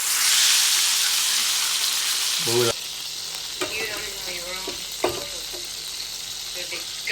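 Butter sizzling in a hot frying pan on a stove turned up high, a steady loud hiss filling the first few seconds, then settling into a softer sizzle with brief clinks and faint voices underneath.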